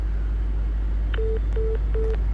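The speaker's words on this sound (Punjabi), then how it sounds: "ਕੱਟਤਾ ਜੀ ਫੋਨ" A phone call cut off: three short, evenly spaced beeps of the disconnect tone, clear and close over a steady low electrical hum, with no talking.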